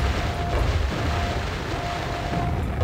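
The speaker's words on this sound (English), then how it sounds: "Cover the area in grenades." Grenade explosions in Quake, a continuous low rumbling barrage of overlapping booms, loud and dense throughout with no clear gaps.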